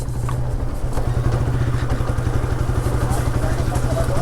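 A motorcycle rides along a rough, risky village road in Kapasia, its engine pulsing steadily and loudly close by throughout, with faint background activity.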